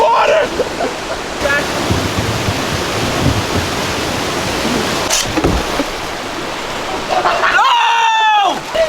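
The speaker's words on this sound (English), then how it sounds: "Conquering the waterfall." Loud, continuous rushing water from a waterfall on a river kayaking trip fills the scene, with people shouting and talking over it.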